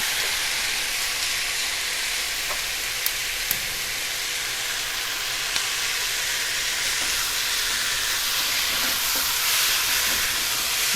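Chicken stir-frying in hot oil in a pan, a steady loud broadband sizzle running throughout with a few small clicks of stirring, no voices.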